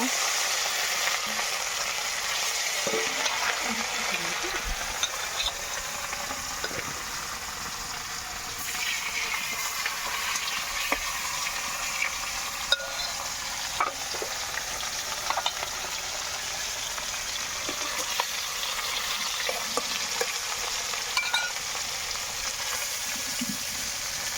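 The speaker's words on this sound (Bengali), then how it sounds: "কড়াইতে তেল গরম হয়ে গেছে, আমি এদিকে আমার মাছগুলো ভেজে নেব" Fish fries in hot oil in a kadai, a steady bright sizzle with scattered spatter pops and occasional utensil taps, close and unbroken, no one speaking.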